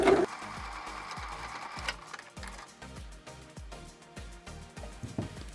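A sewing machine stitches through a milk carton Easter basket in quick, rhythmic bursts of close, mechanical needle clatter, pausing briefly between runs, with no voices.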